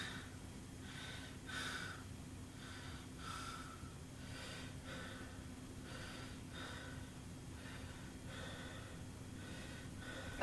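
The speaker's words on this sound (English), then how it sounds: "Okay, take a breath." Repeated breaths from a patient during a chest auscultation exam, a series of soft airy inhales and exhales recurring every second or so over a steady low hum, fairly faint and close.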